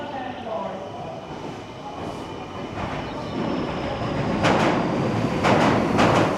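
A train in Japan runs steadily with a continuous rumbling, rolling noise that swells toward the end, as if passing close by. Faint voices can be heard in the background.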